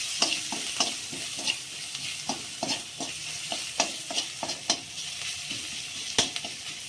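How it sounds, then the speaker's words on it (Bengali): Grated ginger and green chillies frying in hot oil in a pan, with a steady sizzle broken by repeated sharp scrapes and clinks of a spatula as they are stirred, close and without any talk. "এটা সামান্য ভাজা হোক"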